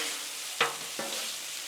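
Chicken stir fry sizzling on a Blackstone griddle, a steady close hiss with two brief bursts as food is stirred and tossed on the hot surface, no voices.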